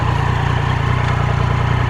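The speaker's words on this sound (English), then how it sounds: "Man, I could just listen to this engine all day." A Triumph Daytona 675R motorcycle idles on its stock exhaust, a loud, close and steady rumble with an even pulsing beat and no talk.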